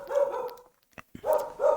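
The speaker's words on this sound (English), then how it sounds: "sorry for the dogs." Several dogs bark nearby in a home, with a pair of quick barks, a short pause with a few sharp yips, then two more full barks in quick succession.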